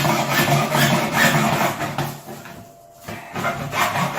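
A plastic toilet cistern mounting plate being cut across a marked line: loud, steady rasping strokes close by, with a brief pause midway before the cutting resumes.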